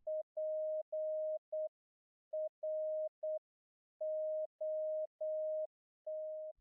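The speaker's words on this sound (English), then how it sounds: "You can hear some Morse code." Morse code beeps generated by a phone app, heard alone: a single steady tone broken into short and long pulses with silent gaps between groups, clean and isolated.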